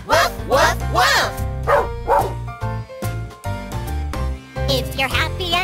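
Children's farm-animal song with sung voices imitating a dog barking "woof woof" in quick rhythmic pairs and triplets over bright music.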